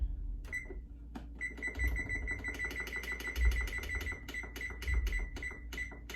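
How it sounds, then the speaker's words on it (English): A kitchen timer being set for baking gives a run of rapid, evenly spaced clicks and beeps. They repeat steadily for several seconds and sound close and fairly clear over low background noise. "And we're going to set our timer."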